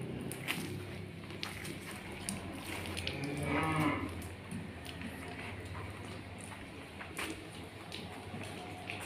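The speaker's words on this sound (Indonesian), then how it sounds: "Calon-calon sapi penggemukan." Cattle held for fattening in a large pen give a drawn-out moo around the middle, over steady low barn noise and faint shuffling movement.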